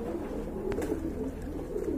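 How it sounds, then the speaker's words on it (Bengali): Pigeons cooing in a pigeon-sale setting, soft low throaty coos repeating close by over a faint background hum. "আর এখানে কিন্তু দুইটা কবুতর দেখতে পাচ্ছেন।"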